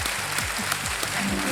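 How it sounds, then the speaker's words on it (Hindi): Studio audience applause on the KBC quiz show, a steady, loud burst of clapping filling the whole moment. "वेल प्लेड, ताली पहले से बज गई।"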